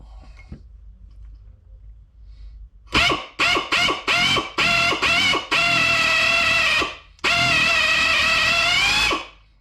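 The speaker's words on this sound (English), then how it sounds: "You want to drill this out at about a 45-degree angle here." A power drill whines in several short bursts, then two long sustained runs, loud and close, grinding into a metal front pump housing at an angle with no talking.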